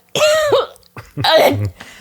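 Two loud, harsh coughs close by, each a rough voiced burst separated by a brief pause.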